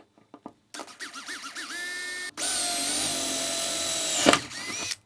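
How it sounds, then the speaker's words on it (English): A power drill bores through the bottom of an AEG airsoft replica, several short starts followed by a loud, steady high-pitched whine that holds for a few seconds, then a brief surge before stopping. "best option would be to drill here on the bottom"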